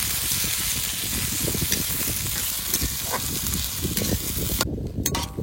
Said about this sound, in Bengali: এবার পেঁয়াজ আর টমেটো দিয়ে দেবো। পেঁয়াজ টমেটো একটু হালকা ভেজে নেবো।